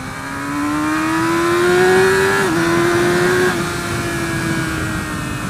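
A 2017 Yamaha R6 motorcycle accelerating hard, its high-pitched engine whine climbing steadily, broken by quick, clean gear changes from the quick shifter, close and loud with no talking.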